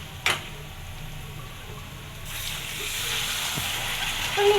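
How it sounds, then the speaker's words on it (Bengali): Prawns sizzle steadily while frying in a pan, a soft hiss that grows louder and fuller toward the end, opened by a sharp clink. "এর ভিতরে চিংড়ি মাছ রান্না হচ্ছে"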